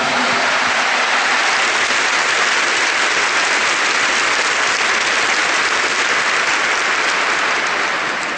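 A church congregation claps loudly and steadily during a Catholic mass, dense sustained applause filling the space for several seconds with no voices standing out.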